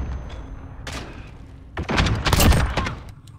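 Several gunshots in Call of Duty: Modern Warfare gunfight mode: a sharp burst near one second, then a denser cluster of loud booming blasts around two to three seconds, close and punchy, with a faint background hum.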